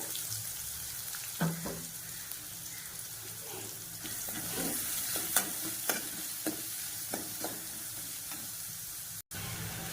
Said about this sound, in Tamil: வெங்காயம் சேர்த்துட்டு இந்த வெங்காயம் நல்லா வதங்கணும். அந்த மாதிரி நல்லா வதக்கிக்குங்க.